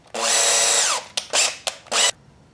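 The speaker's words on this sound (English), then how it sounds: "Just have to drill out a pilot hole" A power drill whirs in one long burst, then several short quick pulses, loud and close, with no talking, drilling a pilot hole in a fishing lure.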